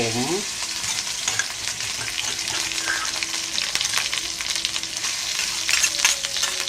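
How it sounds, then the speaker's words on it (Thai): Green curry paste sizzles and fries in hot oil in a pan, with steady crackling and the scrape of stirring throughout, close and continuous. "ใช้ น้ำมันในการช่วยผัดนิดหน่อยนะครับ"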